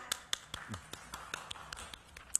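Scattered claps and taps from a congregation at a Shabbat service at Temple Bethel, a few sharp hand claps spaced irregularly, fairly quiet and close, with faint room noise between them.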